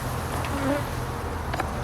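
Bees buzz around an open beehive in a low, steady hum, close and continuous, with no voices.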